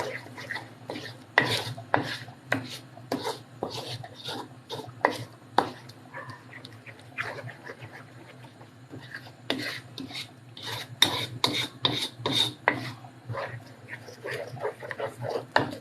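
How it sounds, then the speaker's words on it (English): Isiewu, a goat head delicacy, stirred in a pot: a close run of sharp scraping and clinking strokes at an uneven rhythm, pausing briefly midway, then resuming more densely, with faint background noise. "I'm just going to stir it to make sure everything is quite properly stirred"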